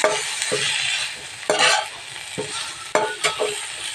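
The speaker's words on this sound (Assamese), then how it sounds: "এতিয়া ভালদৰে মিলাই দিম" Spoon scraping and stirring boiled taro into a sizzling pan mixture for Assamese kosu curry, with repeated sharp scrapes over a steady frying hiss.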